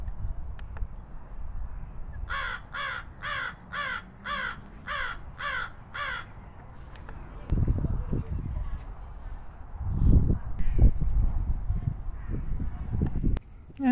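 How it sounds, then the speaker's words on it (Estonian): Crows at Stroomi beach park in Tallinn give a rapid run of about eight harsh caws, then more scattered calls, while a person talks nearby in an outdoor park setting. "Ja need on varesed."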